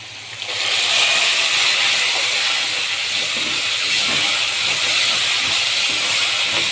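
Tomatoes dropped into a hot pan with golden-fried food, bursting into a loud, steady sizzling hiss that holds strong and close throughout.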